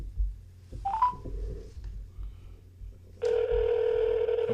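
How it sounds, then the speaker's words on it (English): A steady telephone tone sounds, apparently dialing into a racing news call-in broadcast. It begins loud and continuous after a short chirp and some faint background noise, and it holds steadily to the end. "we're going to get Tommy Baldwin on the phone now and talk to him."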